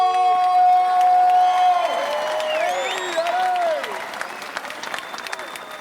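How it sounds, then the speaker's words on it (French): A live crowd applauds and cheers at a Tahiti Fighting Championship MMA event ahead of the second round, loud sustained clapping and whoops filling the hall while an announcer's amplified voice carries over it. "Pour le deuxième round, on applaudit bien fort."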